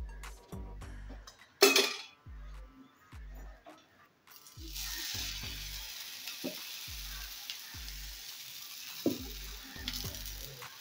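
Oil dropped onto a hot dosa griddle for corn uttapam, a steady sizzle that starts partway in and continues, with a low rhythmic hum and a few utensil clinks, and no talk.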